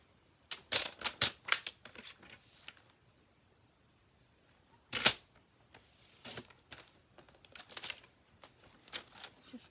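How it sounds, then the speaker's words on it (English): Quiet, close paper sounds as a paper card embellishment is trimmed down, with clusters of crisp snips and rustles, then a single sharp cut and scattered lighter handling noises. "I'm going to cut this down."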